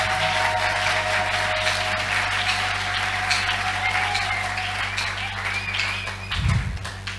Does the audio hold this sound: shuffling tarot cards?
no